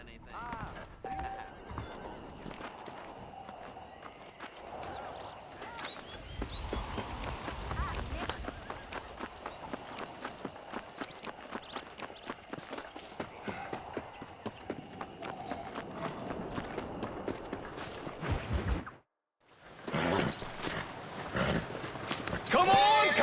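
Horses galloping at a steady clip-clop with occasional neighing on a ranch in the Western game Red Dead Redemption, hoofbeats loud and continuous, a brief pause near the end, with people shouting over them.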